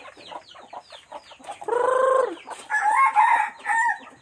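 A sick chicken with a nerve ailment clucks in quick, uneven bursts, then lets out a loud, drawn-out crow followed by more strained crowing calls, all close by.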